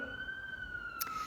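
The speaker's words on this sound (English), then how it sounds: "Sorry about the sirens, y'all." A single siren wails steadily at a distance in a major city, a long thin tone sliding slowly downward over a low background hum.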